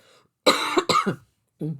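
Several close, harsh coughs come in a quick cluster, followed by a brief softer cough after a pause.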